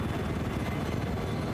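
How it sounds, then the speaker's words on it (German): A helicopter in the Battlefield 4 video game drones steadily with a dense low rotor rumble, loud and constant throughout with no talk. "Ich höre den Heli, ich fahr hoch."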